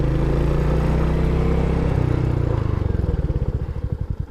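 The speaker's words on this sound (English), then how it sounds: "What I'm gonna do while I'm here is a bit of a brake test." Royal Enfield HNTR 350 motorcycle braking hard from 30 mph, its loud steady engine note dropping and breaking into a slowing, pulsing chug as the bike decelerates.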